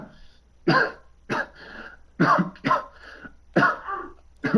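A video game character coughs repeatedly, several sharp hacking bursts in an uneven rhythm with short gaps between, close and fairly loud against a quiet background.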